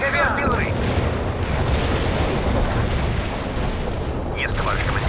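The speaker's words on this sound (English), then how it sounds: "Launching a barrage." Heavy artillery barrage in the World in Conflict strategy game: a sustained, loud wall of rumbling booms and blasts with no gaps, and brief radio-style voices cutting in at the start and near the end.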